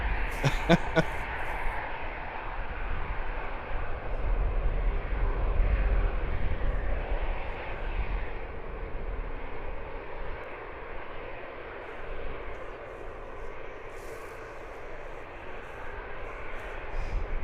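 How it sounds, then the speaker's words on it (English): Ryanair Boeing 737 MAX 8 jet at London Luton Airport, a fairly faint, distant engine roar that swells and then slowly fades, with a few brief clicks at the start and a light outdoor background. "We have a Ryanair. It's a 737 MAX 8."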